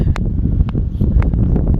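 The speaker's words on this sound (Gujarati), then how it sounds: "હમણાં પવન સારો એવો" Gusty wind buffets the microphone with a constant low roar, punctuated by a few sharp rustling bursts, out on a farm field at sowing time in Gujarat.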